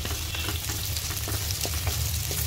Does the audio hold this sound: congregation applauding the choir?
no